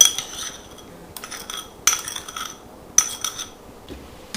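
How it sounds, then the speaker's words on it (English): A spoon stirs sliced apples with sugar in a bowl, making several sharp clinks against the dish in spaced bursts over soft scraping, close by and with no talk. "And just stir that to combine the sugar with the apples"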